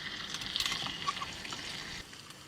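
Shrimp cooks in a metal canteen cup for shrimp and grits, a soft, close sizzle with light crackles and a faint metallic tap, no voices.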